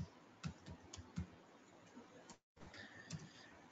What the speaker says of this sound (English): I'm typing my password over here